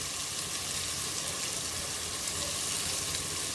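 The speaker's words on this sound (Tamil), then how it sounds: "வெங்காயம் தக்காளி பேஸ்ட்டை வதக்கணும்" Onion and tomato paste sizzles steadily in a pan, a dense, even hiss of frying that holds at a constant level throughout with no talking.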